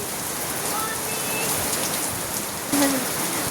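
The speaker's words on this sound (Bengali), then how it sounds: "প্রচুর বৃষ্টি পড়ছে, প্রচুর প্রচুর" Heavy rain pours down steadily in a dense, continuous hiss, close and loud throughout, with a brief louder splash or gust near the end.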